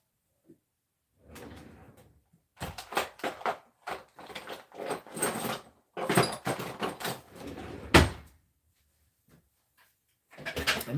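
Someone rummages through drawers and cupboards in a hobby workshop, a busy series of clattering slides, knocks and rattles in bursts, with quiet pauses between and a sharp bang near the end.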